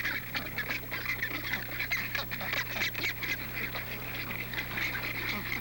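A rockhopper penguin nesting colony calls continuously, with many honking, braying voices overlapping at moderate distance over a low steady hum.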